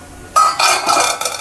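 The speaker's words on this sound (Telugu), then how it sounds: "మూత తీస్తున్నానండి." A metal lid lifts off a cooking pot of Andhra-style tomato chutney, giving a bright clank followed by scraping, rattling metal contact in a close, short burst.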